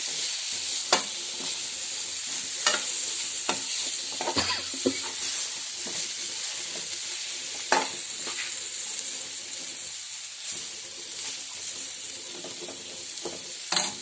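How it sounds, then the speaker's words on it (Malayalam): Tomato being stirred and sautéed in a pan for chicken curry makes a loud, continuous sizzle with a hiss of steam, while a spoon scrapes and knocks against the pan at irregular intervals, with no voices. "തക്കാളി ഇട്ട് ഒന്നുകൂടെ ഇളക്കി വഴറ്റിയെടുക്കുക"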